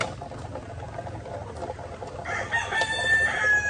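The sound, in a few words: laying hens clucking on a farm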